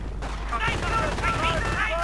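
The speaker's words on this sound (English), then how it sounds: "getting lit up by a heavy machine gun team and the IST" Heavy machine gun fire in the Europe in Ruins strategy game, a dense continuous rattle of bursts under constant battlefield din, loud and sustained throughout.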